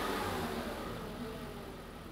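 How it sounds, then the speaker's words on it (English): A car engine revved by quick throttle blips during an air/fuel ratio sensor test, a close mid-pitched engine roar with a slight surge at the start, then fading gradually. "So if you can blip the throttle a couple times there, and you can see how quickly that reacts there."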